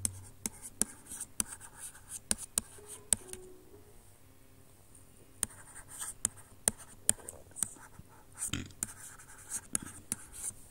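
Chalk or marker scratches and taps across a board during a classroom lecture, coming in short irregular bursts of strokes with pauses between, fairly close and clear, with the room otherwise quiet and no talking over it.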